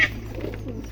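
Domestic pigeons kept at home give a brief soft, low coo, close by, in a quiet room.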